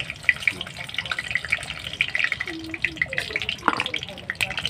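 Dried red chillies dropped into hot oil hiss and crackle in a steady, close sizzle that runs throughout, with brief stirring and clinking noises over it.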